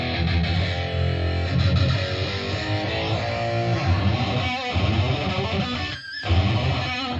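Electric guitar played through an Emperor cabinet and picked up by a 421 microphone in a studio, a dense, distorted, sustained wash of chords with heavy low end, loud and continuous, briefly dropping out near the end.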